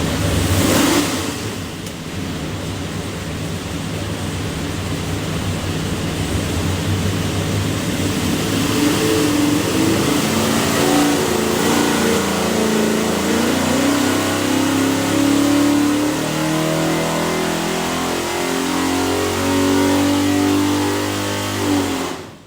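A 582ci big block Chevy built for an airboat, with a Quick Fuel carburetor, runs on a dyno and climbs in one long, loud, steady sweep from a rough idle to a hard roar, then cuts off sharply at the end.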